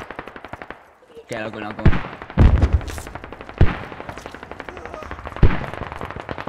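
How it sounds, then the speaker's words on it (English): Bursts of automatic rifle fire and sharp gunshots in the military shooter game Squad, loud and close, several separate volleys spread across the moment, with a player's voice talking over the shooting. "Why are you shooting him?"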